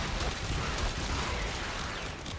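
A volley of explosive bombs from the Kuva Zarr in the Warframe video game: a dense, continuous wash of blasts and crackling detonations, loud and close, with no gaps in the roar.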